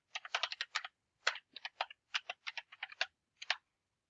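A password is typed on a computer keyboard in quick, quiet clusters of crisp keystroke clicks, with short pauses between groups and no talking.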